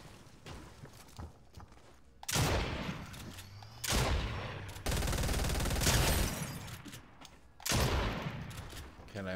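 Gunfire in an online duos shooter game cracks out in several loud bursts separated by quieter gaps, close and sharp, with a voice talking faintly in between.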